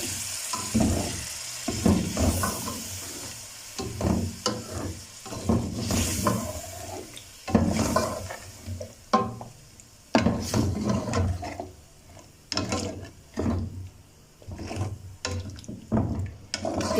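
Chicken white karahi with a cup of yogurt being mixed in a pan, spoon scraping and stirring in irregular strokes over a soft sizzle, close and fairly quiet.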